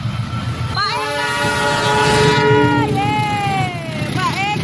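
An Argo express train on Indonesia's southern line sounds its horn in long, loud, wavering blasts over a rolling rail rumble, with people talking and cheering close by.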